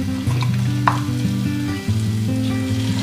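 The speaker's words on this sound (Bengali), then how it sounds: "ভালো করে একটু নেড়ে নেবো, মশলার সঙ্গে মাখিয়ে ভালো করে কষিয়ে নেবো।" Tilapia fish curry spices frying in a pan and being stirred, a steady close sizzle with occasional scraping and clinks of the spoon, carried along under a low background tone, no talk.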